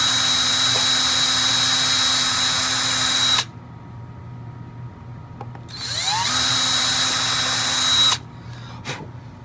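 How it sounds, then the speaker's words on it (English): Small power drill with a 1/16 bit boring holes in a plastic milk car, two bursts of steady high whine separated by a pause, close and loud, without talk. "So we'll drill 1 hole here and 1 hole there for the Kadee."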